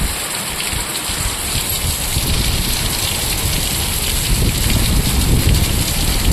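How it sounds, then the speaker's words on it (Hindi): Steady rain falls outdoors with a dense, continuous hiss of drops hitting surfaces, loud and unbroken throughout with no voices. "आमर आज वर्षा होउची"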